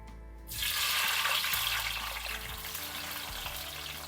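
Bitter gourd pieces drop into hot oil for a Kerala-style curry, and a loud, dense sizzle starts after a brief quiet moment and holds steady and close with no voices.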